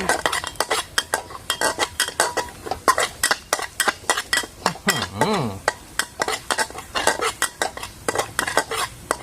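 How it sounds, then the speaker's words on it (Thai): Thai curry paste and field eel frying in a pan, with a utensil scraping and clinking against the metal in a quick, steady rhythm over a bubbling sizzle, loud and close. "นี่เห็นไหมเริ่มเดือดแล้วดูดิ"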